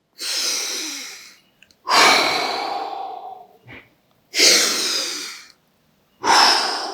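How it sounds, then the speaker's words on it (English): Slow, deep breaths held through a stretch in a handstand mobility class: four long, loud, close exhalations separated by silent inhales, with one faint short sniff between. "let's hang here and just breathe into that stretch"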